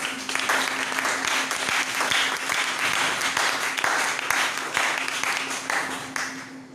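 A church congregation applauds the Lord with sustained, dense clapping from many people, steady and fairly loud throughout, fading slightly at the end.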